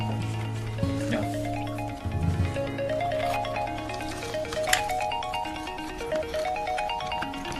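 A phone rings with a repeating electronic melody that plays steadily through the whole stretch, loud and close, in a family home with no one speaking over it.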